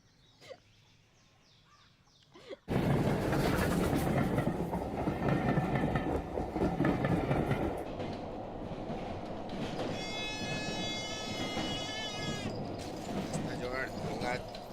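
Train running on rails, loud rumbling clatter of a moving train that starts abruptly after a quiet opening and continues steadily to the end, with some high squealing and voices mixed in.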